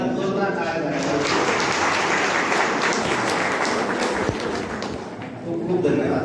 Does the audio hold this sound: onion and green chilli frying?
no